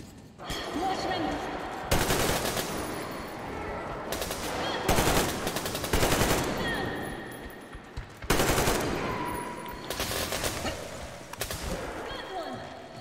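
Bursts of automatic gunfire from ambushing enemies in the video game Metro Exodus, with several loud rattling volleys that start and stop abruptly, separated by brief lulls.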